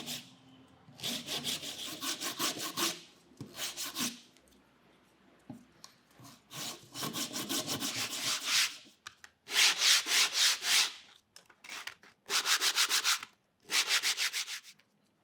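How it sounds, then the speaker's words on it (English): Wood veneer pieces being filed and sanded by hand, close and quiet, in bursts of rapid back-and-forth rasping strokes separated by short pauses. "I clean up the outside with some filing and sanding"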